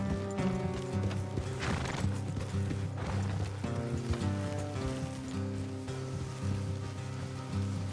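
Horses trot in the video game Red Dead Redemption 2, rhythmic hoof clip-clops repeating steadily and fairly close, layered with game music or ambience and an occasional snort, no voices.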